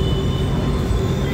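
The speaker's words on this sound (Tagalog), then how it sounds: "try natin sumakay na ang LRT papuntang Dr. Santos" Light rail train of the LRT line in Manila, heard from on board: a steady, loud rumble of wheels and carriage with a faint high whine running through it, with no voices.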